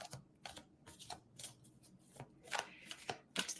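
A fairy card deck is shuffled close by, giving quiet, repeated riffling bursts in an irregular rhythm with no one speaking.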